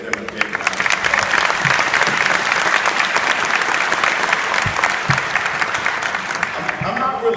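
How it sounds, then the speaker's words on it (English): Audience applause for graduating students at a school graduation ceremony, a loud, steady wash of clapping from a large crowd that runs unbroken for several seconds. "Let's give them a big round of applause."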